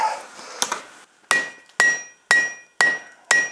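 A 3-pound cross peen hammer strikes five sharp, ringing blows at a steady rhythm, each clang decaying before the next. Two fainter knocks come first, and no one speaks.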